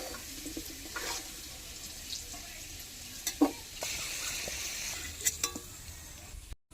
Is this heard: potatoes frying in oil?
yes